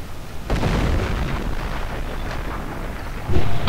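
A video game artillery barrage rolls on as a dense, low, rumbling wall of blasts. A sharper, louder impact lands near the end.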